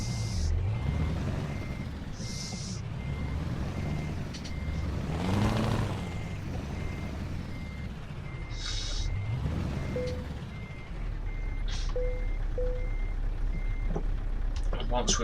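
Truck reversing to hitch a trailer in Euro Truck Simulator 2: repeated reversing beeps sound over a steady engine drone, with an air-brake hiss and some speech.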